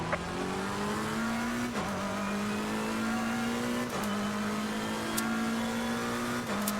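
A race car in a sim racing game driven on a Simucube 2 Pro wheel, its engine droning steadily and climbing in pitch through each gear before a quick shift drops it, three times in a row with no talk.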